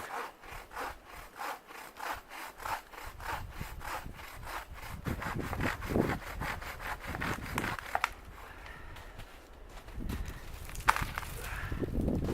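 Rough, rhythmic back-and-forth sawing through recently dead but unrotten wood being cut for a makeshift plate and cutting board outdoors, steady close strokes for about eight seconds, then scraping, rubbing handling noises.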